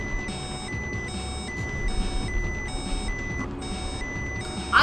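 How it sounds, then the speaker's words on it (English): Repeated high electronic alarm beeps in a video game meltdown scene, regular on-off pulses sounding steadily over a low rumbling background, fairly loud with no talking. "That's the most annoying alarm I heard in my life."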